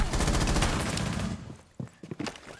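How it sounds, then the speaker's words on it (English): Dense, sustained automatic gunfire during an esports match of a team shooter game, loud and continuous for over a second before fading into scattered, sharper bursts and isolated shots. "Davin takes some gunfire"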